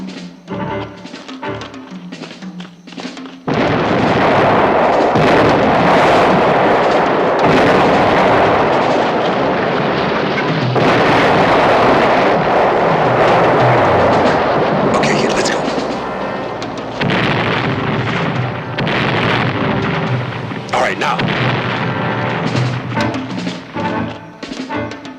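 Howitzer artillery barrage in a Vietnam War setting: loud, sustained rumbling bombardment with heavy booming blasts rolling continuously for most of the stretch after a quieter opening.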